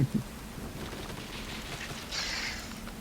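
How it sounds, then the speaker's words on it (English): Rain and wind ambience plays behind a tabletop role-playing game, a steady hiss of falling rain with a brief low rumble at the start and a brighter gust of spray swelling near the end. "The rain beats down and the wind whips through your clothes, finding every weakness in your armor, chilling you to the bone."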